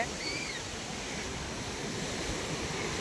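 Surf washing onto an empty beach at Kothapatnam near Ongole, a steady broadband roar of waves with wind noise, continuous and fairly close, without talk.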